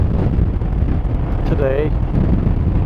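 Wind rushes steadily past a rider on a 1990 Honda PC800 Pacific Coast motorcycle, a loud, full buffeting noise while someone briefly speaks.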